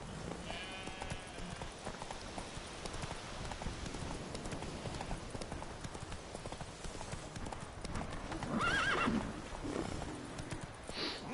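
Geralt's horse Roach clip-clops along in The Witcher 3 video game, steady hoofbeats running throughout, with a loud neigh near the end amid faint game ambience.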